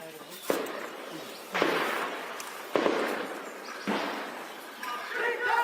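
Gunfire from a military operation in Kashmir: loud, sharp reports about a second apart, each trailing into a long echoing rumble, with a voice faintly present.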